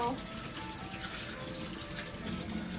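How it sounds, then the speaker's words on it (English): Tap water runs steadily into a sink while crab is rinsed and drained, a dense, even hiss of flowing water lasting the whole stretch, close and moderately quiet. "rinse it good guys"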